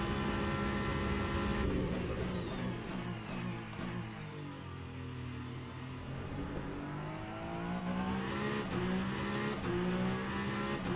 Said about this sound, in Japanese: ランボルギーニは速いのよ、そのエンジンが。